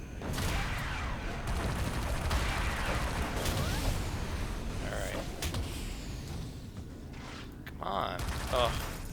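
Auto turrets fire in City of Heroes, a dense, continuous clatter of rapid gunfire and mechanical creaks layered with combat effects, staying loud and busy throughout with a few sharper bursts near the end.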